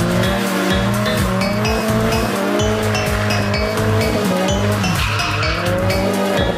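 A car driven with poor clutch and accelerator control revs loudly and steadily throughout, its engine note rising and falling while tires squeal and skid repeatedly in overlapping bursts.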